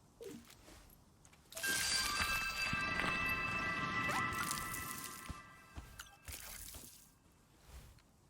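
Water pours from a watering can onto plants in a cozy garden game, a steady close splashing and trickle lasting several seconds, then tapering off into a few small drips.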